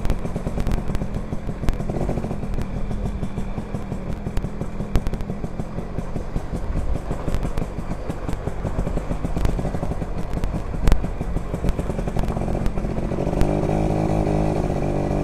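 A Yamaha V80 80cc two-stroke motorcycle engine drones steadily while riding on the road, a continuous buzzing note with small shifts in pitch as the throttle changes, loud and close throughout with no talking.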